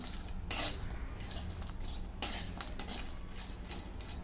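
Dried bombil fish is roasted in a dry pan, with a few sharp scraping clinks of a metal spatula against the pan separated by quiet stretches.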